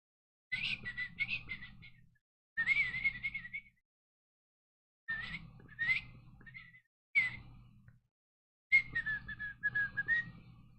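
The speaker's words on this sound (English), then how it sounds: "Don't know why I'm whistling." Someone whistles a wandering tune in several short phrases separated by pauses, close and fairly quiet, with a low hum underneath.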